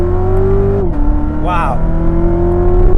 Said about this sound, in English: we're gonna do a little second gear pull here